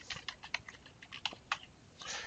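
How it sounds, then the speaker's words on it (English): Someone types a title on a computer keyboard, producing a quiet, close series of uneven key clicks with short pauses between bursts, ending in a quick flurry of taps. "I'm going to type Mike's Portfolio."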